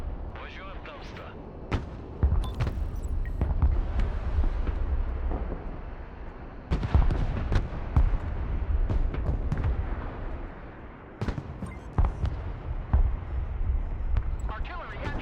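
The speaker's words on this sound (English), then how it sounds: "Artillery at your command, sir. Engaging target." Artillery fire in a military strategy video game, with repeated heavy booming blasts landing in irregular bursts, some overlapping, loud and close, while a voice talks in between.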